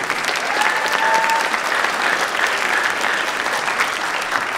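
Loud, dense audience applause at a school pops concert, sustained and even throughout, with a faint tonal hint of instruments beneath the clapping.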